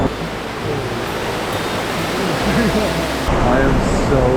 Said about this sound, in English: The waves are coming in and they're huge.